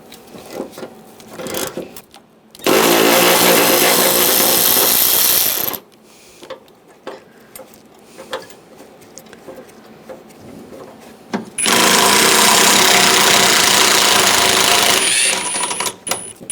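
Power ratchet or impact tool with a 10mm socket loosening a fender bracket bolt on a 2011-2018 Ram 1500, two loud sustained whirring bursts of about three seconds each separated by quieter clinks and handling.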